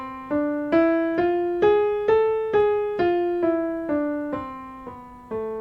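A harmonic minor scale played note by note on a keyboard instrument, roughly a dozen clear, evenly spaced tones stepping up and back down, each struck note decaying before the next, heard alone with no talking.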